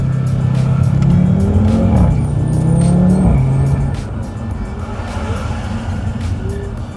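A car with a new rear sway bar out on a test drive, engine droning loudly and rising in pitch as it accelerates, with a brief tire squeal, then settling to a quieter steady cruising hum.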